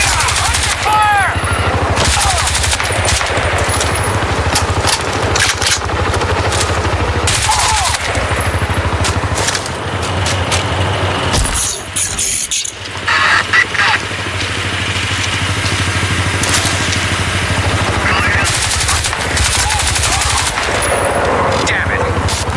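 Automatic gunfire and rapid shots from the video game Crysis 2 Remastered rattle loudly and almost continuously amid battle noise, with a brief lull midway and shouted voices mixed in.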